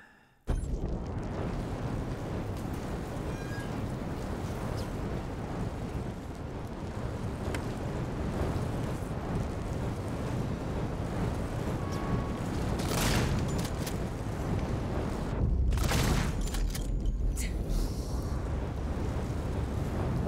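Fire burning in Alien: Isolation: a continuous low roaring rumble with crackling and whooshing surges, steady throughout, swelling in a couple of louder flare-ups.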